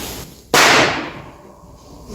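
A revolver gunshot fired on stage during a theatre performance of the comedy Le Père Noël est une ordure: one sudden, loud, sharp bang that rings out and decays over about a second in a quiet room.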